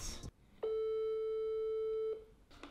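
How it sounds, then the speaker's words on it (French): An outgoing telephone call gives one long, steady ringback tone lasting about a second and a half, loud and clear, with brief background noise before and after it. "je vais l'appeler tout de suite"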